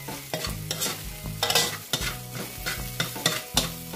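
Garlic sizzles in a little oil in a pan while being stirred, with steady frying hiss and repeated scraping strokes in a loose rhythm, close and clear, no voices.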